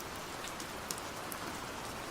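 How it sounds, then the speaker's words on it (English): Soft, steady rain falling outside, an even hiss with a few distinct drops pattering on a surface, quiet and unbroken. "The rain outside began to move again"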